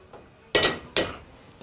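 Cubes of ciabatta tossed into hot butter in a heated frying pan, giving two sharp bursts of sizzling and crackling that fade between them, close and fairly loud, with no voices.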